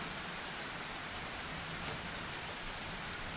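A rainstorm pours down steadily, making a dense, even hiss of rain that does not let up. No voices are heard.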